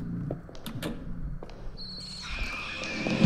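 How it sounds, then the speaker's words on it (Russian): A few muffled footsteps thud in a corridor behind a closed door in the video game The Coma, sparse and distant before a rising tonal ambience takes over. "Я слышу ее шаги в этом коридоре за дверью."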